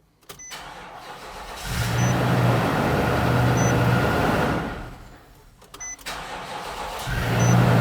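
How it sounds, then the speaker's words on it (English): Nissan NV2500 van with a 5.6L V8, being started and left running until it stalls during fuel pump work: a loud, close engine roar that rises and holds, dips briefly, then starts again. "Now you want to start your vehicle and let it run until it stalls."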